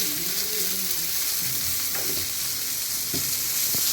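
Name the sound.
tomatoes frying in a pan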